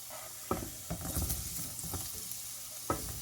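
Pieces of ridge gourd drop into hot oil in a pan and sizzle steadily, with a few soft stirring knocks under the close, continuous frying hiss.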